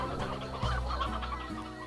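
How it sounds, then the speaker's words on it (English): Big hens clucking in the video game Slime Rancher: repeated short clucks over a low, steady background music tone, moderately loud and close. "It's just all big hens here."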